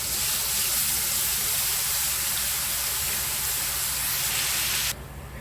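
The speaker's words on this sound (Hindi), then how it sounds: "अभी अदरक लहसुन डालेंगे, उसको अच्छे से इसका कच्चापन जाने तक भूनेंगे" Ginger and garlic frying in a pan for a Malvani mutton keema, giving a steady, close, loud hiss and sizzle that runs unbroken before dropping slightly in level near the end, with no talking.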